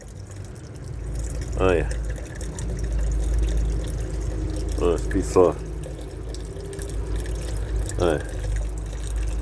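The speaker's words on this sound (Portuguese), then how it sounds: "Só bebe água na torneira." Cat lapping water from a running tap, a continuous low trickle of flowing water close by, with a person speaking briefly several times over it.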